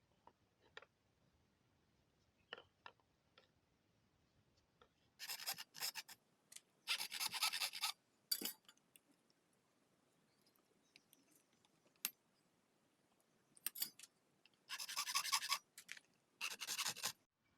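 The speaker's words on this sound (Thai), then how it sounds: "จะเป็นขั้นตอนบากหัวนะครับ บากหัวสำหรับมัดยางนะครับ" Bursts of rasping as the head of a buffalo horn slingshot is notched with a file or saw, several short scraping strokes in clusters separated by pauses and light handling clicks, close and fairly quiet with no talking.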